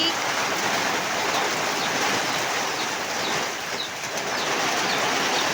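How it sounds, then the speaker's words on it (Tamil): Heavy rain pours steadily over a town, a dense hiss of falling water lasting throughout, with faint bird sounds scattered through it. "இங்கே பாருங்க நம்ம ஊரில் சரியான மழை"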